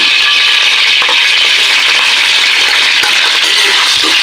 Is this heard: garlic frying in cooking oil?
yes